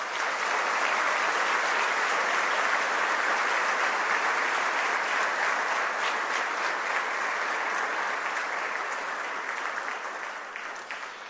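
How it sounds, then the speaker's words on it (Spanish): Loud, sustained applause from a graduation ceremony crowd honoring the graduates, a continuous wash of many hands clapping that holds steady and then begins to fade toward the close. "les otorguemos fuertes aplausos a todos ellos"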